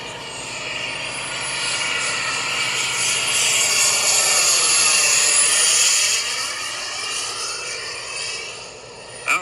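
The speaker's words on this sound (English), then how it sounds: "we're catching this awesome aircraft flying" An aircraft passing over West Branch Airport in Michigan, its engine drone swelling from a distance to a loud peak and fading away again, with a Doppler shift in pitch as it goes by.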